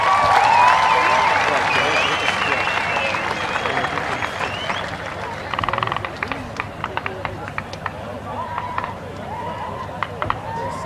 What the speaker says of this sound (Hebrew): תנו להם מחיאות כפיים